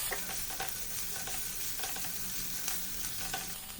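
Garlic sautés in a pan for Afghani paneer, a soft, steady sizzle broken by light stirring scrapes, fairly quiet and continuous with no voices.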